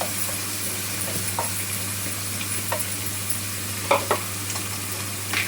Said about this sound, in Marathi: कांदा परतून घ्यायचा मला